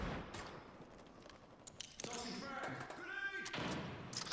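Sniper and other gunfire in the military shooter game America's Army: Proving Grounds, a series of sharp cracks and bursts, several shots clustered in the second half over a busy game background.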